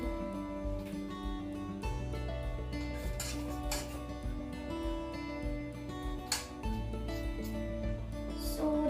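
Milk being mixed into batter in a bowl, with faint utensil clinks and stirring scrapes against the dish under steady background music.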